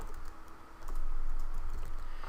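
Someone types steadily on a computer keyboard, a dense run of soft key clicks under a broad, fairly loud background noise.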